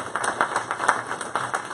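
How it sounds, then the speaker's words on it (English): An audience at a monthly meeting gives a short round of applause, fairly steady clapping heard alone at moderate volume for under two seconds. "Give a round of applause for that, folks."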